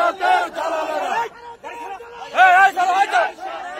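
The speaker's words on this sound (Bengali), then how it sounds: "শতাধিক ব্যক্তি তার বিচারের দাবিতে স্লোগান দেন" More than a hundred people chant slogans demanding a trial at Karwan Bazar as a detained woman is led away: loud, close, rhythmic shouted chants from a massed crowd, rising and falling in bursts.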